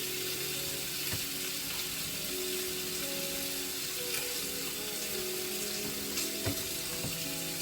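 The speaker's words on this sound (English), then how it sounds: "Now while the bacon's frying up" Bacon frying in a pan, a steady soft sizzle and crackle that runs throughout at low level, with faint kitchen clinks now and then.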